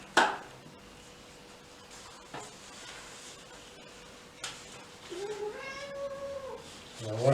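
A cat meows indoors during a wallpaper-hanging job: a few short calls, then a long drawn-out harmonic meow near the end, fairly close, over quiet room sounds and occasional knocks.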